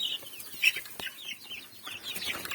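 Chickens and chicks clucking and peeping in a small backyard flock, soft scattered calls overlapping at close range, fairly faint overall.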